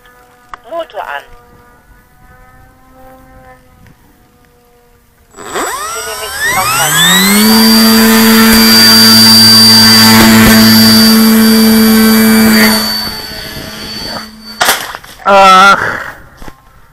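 After a few quiet seconds and a brief whine, an engine spins up with a rising whine, holds a loud steady roar, then cuts off with sputters.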